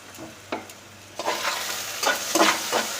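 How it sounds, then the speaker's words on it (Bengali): Potatoes fry in a pan with a soft background sizzle, broken by several louder bursts of stirring and scraping. "আলু ভাজাটা হচ্ছে,"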